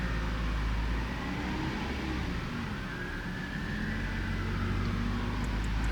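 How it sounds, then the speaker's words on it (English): Car engine revving and held steady at about 1200 to 1500 RPM during an engine treatment on a noisy engine, a continuous droning hum with a slowly shifting pitch, close and loud, no talk. "we have to be revving this car"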